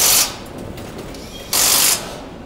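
Air tool or torque wrench fastening bolts on a Lexus LC 500 assembly line in a Japanese factory, with two loud bursts of hissing, whirring action separated by a quieter stretch of workshop noise.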